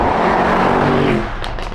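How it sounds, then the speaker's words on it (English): The V8 of a Mercedes-AMG GT63 S E Performance in race mode, a loud, close, rumbling engine roar that holds steady, then drops off sharply near the end. "you shift into race mode, and alive comes the V8 and all that wonderful sound and emotion"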